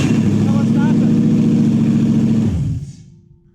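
A Toyota 1UZ-FE V8 fitted in a Massey Ferguson tractor runs loudly up close with a steady throbbing rumble, then shuts off and winds down to silence near the end.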